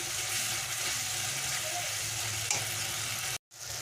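Masala spices for bhindi do pyaza sizzle steadily in a hot pan, a continuous close frying hiss with faint stirring scrapes, cut off briefly near the end.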